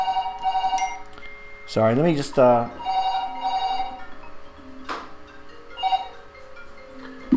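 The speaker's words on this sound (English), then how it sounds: "somebody's trying to phone me from the States" A telephone rings with a repeated electronic warble and short tones, interrupted by someone speaking briefly near the microphone.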